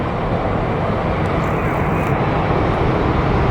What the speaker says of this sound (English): I'm getting a takeoff on film.